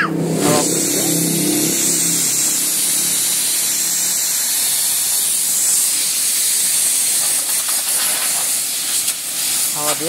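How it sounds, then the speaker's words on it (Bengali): Strong compressed-air blast hissing steadily while dust is blown out of an Eeco car's interior during a fast service, loud and continuous for about ten seconds, with a brief engine-like rumble early on. "হাওয়া দিয়ে ধুলোগুলো আগে বাইরে বের করে দেবে।"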